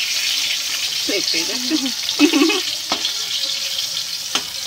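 Eggplant slices fry in a pan with a steady background sizzle, broken by a few sharp clatters, while someone talks briefly over it.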